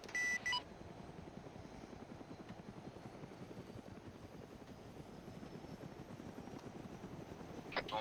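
A helicopter engine spools up with a rapid, throbbing rotor chop and a rising whine. Short electronic beeps sound at the very start and again near the end.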